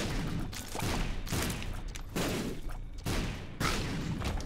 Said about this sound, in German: Ah, komm, spreng den Stein.